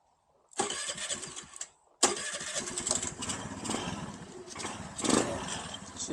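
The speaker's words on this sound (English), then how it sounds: "So engine's cold. Let's see if she fires up." A cold Honda Navi engine cranks briefly after carburetor tuning, pauses, then fires and settles into a rough, steady idle close to the microphone, with uneven revving bursts.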